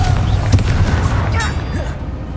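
A Bombarda blasting spell detonates in the Hogwarts Legacy video game, a loud, deep rumbling boom with a few sharp cracks layered over it, sustained and heavy throughout the short burst.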